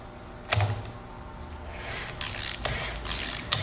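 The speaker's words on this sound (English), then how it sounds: "Using a 7mm ratchet or similar tool, turn the release spindle anti-clockwise to retract the ram and open the jaws." A 7mm ratchet turns the release spindle of an AGP pipe press tool in short bursts of rapid, close metallic clicking, separated by quiet pauses.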